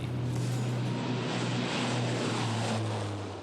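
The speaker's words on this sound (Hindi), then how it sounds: "अर्जुन फॉर्मेशन में एक C-295 और 2 C-130 विमान अपने प्रदर्शन से आपको रोमांचित कर देंगे" Military transport aircraft, a C-295 and two C-130s, fly past in formation at a Republic Day parade, a steady, loud propeller-engine drone with a low hum that holds throughout.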